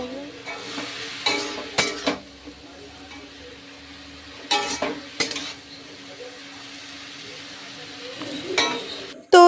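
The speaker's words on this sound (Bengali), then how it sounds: "এখানে তো নোটে শাক ভাজা বসিয়ে দিয়েছি" Amaranth greens fry in a pan in a home kitchen, a soft sizzle under intermittent stirring scrapes and clinks of a utensil against the pan, fairly close and quiet.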